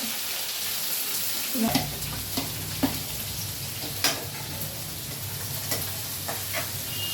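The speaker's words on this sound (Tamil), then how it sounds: "போட்டு நல்லா வறுத்து விட்டுருங்க" Finely chopped ingredients fry in a hot pan for crab gravy, a steady soft sizzle under occasional light scrapes and clinks of a stirring spoon, with no talking.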